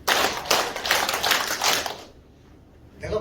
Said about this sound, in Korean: 박수 5번 시작. 짝짝짝짝짝.